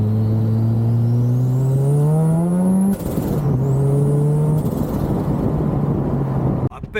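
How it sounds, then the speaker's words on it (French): A Mazda RX-7 FD turbocharged rotary engine drones loudly at close range while a high turbo whistle rises and falls above it, swelling twice as the engine pulls. "on entend le bruit du turbo, mais on n'entend strictement rien à l'échappement"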